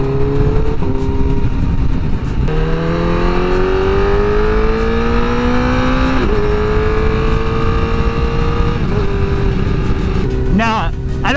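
A 2019 Honda CBR1000RR sportbike revs hard and close, its engine note climbing steadily through the gears with brief dips at each quick-shifted change and a sharp burst of revs at the end.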